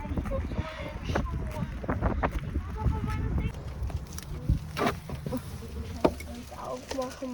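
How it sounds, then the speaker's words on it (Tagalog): Gusty wind buffets the microphone with low rumbling bursts, while people talk and scattered clicks and footsteps sound nearby. "Mahangin ngayon."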